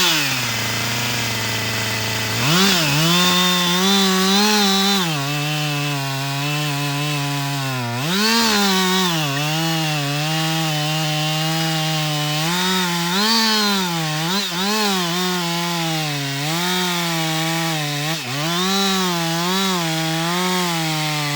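An ECHO CS 620P or Husqvarna 562XP chainsaw felling small timber runs loud and close, its engine rising and falling as the throttle revs repeatedly during the cut.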